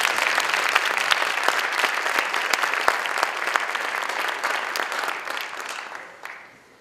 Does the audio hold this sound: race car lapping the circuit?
no